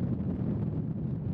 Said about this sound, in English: pockets of wind carried dirt and debris into the air